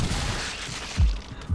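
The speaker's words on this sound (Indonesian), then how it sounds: "Gue sudah mendengar suara tembakan." A couple of booming gunshots land among dense, noisy action in the game 7 Days To Die, each a heavy low thump rising from a constant rumble.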